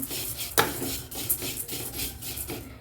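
Dry flattened rice (aval) roasting in a pan for aval kesari, with a steady scraping, rustling stir and a few sharper clinks of the spoon against the pan, close and moderately loud.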